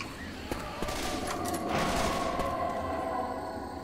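Auto shotgun fire in the Left 4 Dead 2 video game, a few loud, close blasts at uneven intervals over a steady din of game noise.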